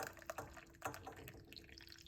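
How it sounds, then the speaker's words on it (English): Water is poured from a measuring cup into a cooking pot, one cup's worth, giving a brief splashing pour that starts and stops a few times, fairly close and moderately quiet. "Pour it out a little bit more into the pot."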